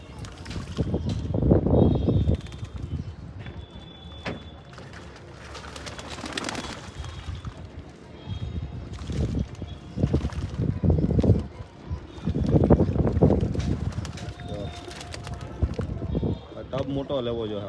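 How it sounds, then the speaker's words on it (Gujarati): Many pigeons splash and flutter while bathing together in a small, crowded water tub, with wet wingbeats and soft cooing close by, under frequent casual talk. "જો કેવા મસ્ત મજાના નાઈ છે આપણા કબૂતર આજે"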